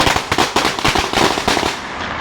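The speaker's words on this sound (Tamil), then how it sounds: "பயத்துக்கார பட்டாசு" A rapid string of firecrackers bursts close and loud, sharp cracks tumbling over one another in a continuous crackling barrage for about two seconds.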